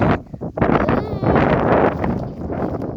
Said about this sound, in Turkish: Birazcık rüzgarlıdır.